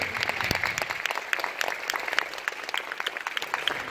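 Audience applause following a film screening and Q&A in DC, a steady, dense patter of many hands clapping throughout, close and fairly loud, with no talk over it.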